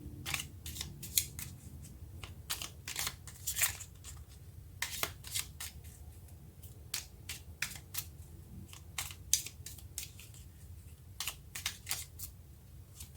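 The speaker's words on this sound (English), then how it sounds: "let's take a card for reclaiming your power." Tarot cards shuffled by hand in a quiet room, producing a long run of crisp, dry riffling clicks and flicks in irregular bursts, close to the ear with no talking.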